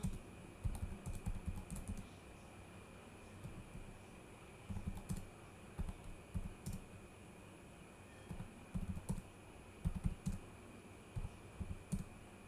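Bursts of clicky keystrokes on a computer keyboard as data is entered into Excel, quiet and close, coming in short uneven runs separated by pauses.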